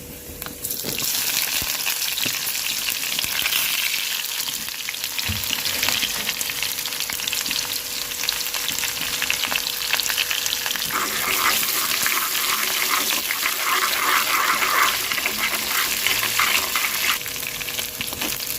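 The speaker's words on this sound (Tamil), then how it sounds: "வெங்காயம் நல்லா வதங்கிடுச்சு." Small onions sizzle and crackle in hot oil while cooking fish curry, a steady loud frying hiss with occasional stirring scrapes.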